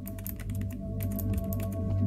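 Fast, steady clatter of keys typed on a computer keyboard to enter Minecraft chat, close and fairly loud, with a constant low hum underneath and no talking.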